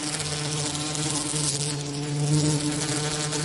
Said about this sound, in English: Giant bees.